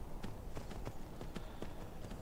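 In the Skyrim video game, a horse's hooves gallop in a quick, even clip-clop rhythm over a constant low rumble of game sound, fairly close and steady throughout.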